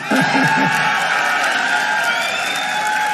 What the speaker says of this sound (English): can we now get a huge round of applause for Matt Booty?